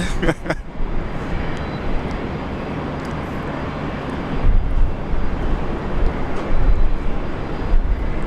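Qantas jet airliner taking off from runway 01 right at Brisbane Airport, a steady broadband engine roar that swells louder toward the end, heard at a distance with no talk over it.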